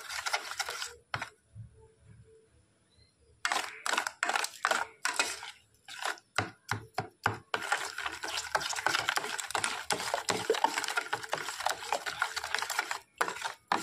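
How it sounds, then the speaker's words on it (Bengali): Mango juice being mixed with semolina and sugar in a bowl, a close, steady run of rhythmic scraping and churning strokes after a brief quieter pause, with no talking. "তো আমের রসটা এই সুজি আর চিনির সঙ্গে ভালো করে মিশিয়ে নিচ্ছি, যেন চিনিটা তাড়াতাড়ি গলে যায়।"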